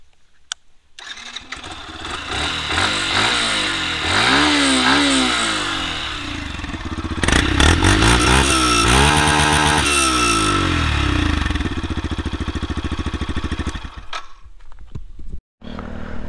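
A 2023 Yamaha FZ V4 motorcycle engine starts up close and loud, then runs with a steady exhaust note and several rising and falling revs before cutting off briefly near the end. No talk.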